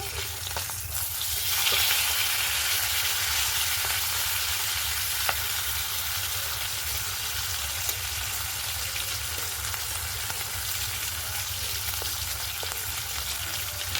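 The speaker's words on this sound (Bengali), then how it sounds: "বেগুনগুলো আর একটু ভেজে নেব।" Eggplant and fish fry in a hot pan with a steady, crackling sizzle that continues evenly, with an occasional faint tap or stir.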